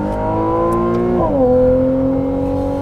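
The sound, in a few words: Ferrari 296 GTB engine heard from inside with windows up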